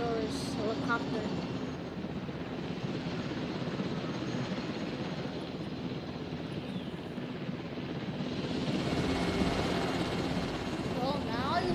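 A helicopter in the video game Jurassic World Evolution hums with a continuous whirring rotor drone that holds steady throughout and swells slightly near the end.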